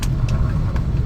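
Road noise from inside a moving car: a steady, close low rumble from the engine and tyres, lasting about a second, with no talk.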